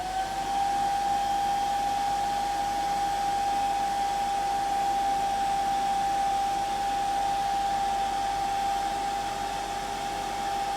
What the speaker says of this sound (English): using my hairdryer.